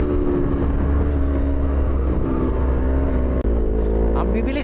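A group of 1000cc motorcycles accelerate hard together on a group ride, with a 400cc bike among them; engines roar loudly and steadily up close, with a rising rev near the end over constant wind rush.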